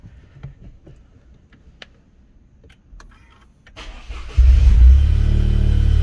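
A Toyota GR Yaris engine with a DTUK tuning box cranks briefly after some quiet clicks and handling noises, then catches and settles into a loud, steady idle.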